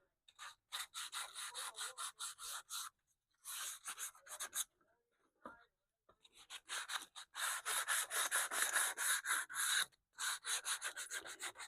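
Hand sanding of a wooden tube radio cabinet, close and fairly loud, in bursts of rapid back-and-forth scratchy strokes with short pauses between passes and no talking.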